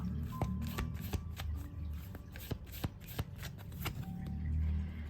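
Angel oracle cards shuffled by hand for a love reading, a steady run of close, crisp riffling and flapping with soft thumps as the deck is squared, no talking.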